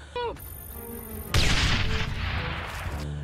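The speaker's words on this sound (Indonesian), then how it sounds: "Seketika bom itu pun meledak dan menghempaskan para anggota tim." A bomb hidden under a table detonates with a sudden loud boom, followed by a long, rumbling, crackling decay that fills the rest of the moment after a brief quieter lead-in.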